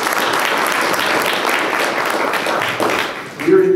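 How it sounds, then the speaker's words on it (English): Audience applause for John Boca, Executive Director of the Erie Downtown Partnership, at an Erie mayor's press conference, dense and steady clapping from a crowd, with voices under it and a brief tonal sound near the end. "Do we have a round of applause for John?"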